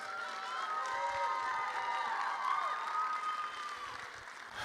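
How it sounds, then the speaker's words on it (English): Applause and light cheering from a large audience at a high-school band competition as performers leave the stage, steady but fairly distant clapping with scattered whoops. "Give them a big round of applause."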